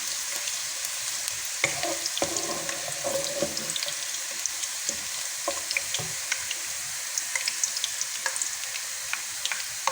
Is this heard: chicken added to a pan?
yes